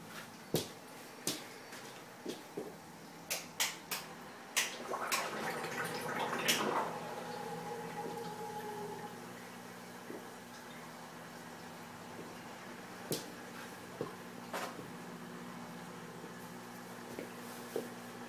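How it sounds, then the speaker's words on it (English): A reef aquarium system switching back on after tank cleaning: a few sharp clicks, then a swelling rush of water as the pumps kick in and settle into a low, steady hum with occasional clicks, faint and close. "I turn the system back on. So you'll hear everything kick back on."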